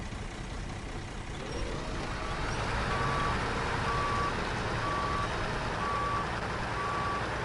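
A truck backs up in SnowRunner, its reversing alarm pulsing in a steady, evenly spaced series of beeps over a low, rumbling diesel engine idle.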